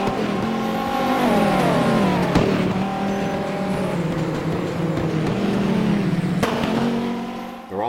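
Viper race cars in the rFactor racing game roar past in a pack, engines rising and falling in pitch through gear changes, with sharp shifts and a loud, continuous multi-car drone.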